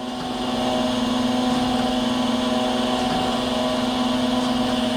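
A surface grinder slowly grinding a metal part, producing a loud, steady mechanical drone with a constant hum that holds unbroken throughout.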